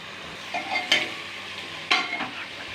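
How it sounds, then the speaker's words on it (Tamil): Half a kilo of chicken cooking in a pot gives a soft, steady sizzle, broken by two sharp metallic clinks of a spoon against the pot about a second apart. "சிக்கன் வெந்துக்கிட்டு இருக்கு"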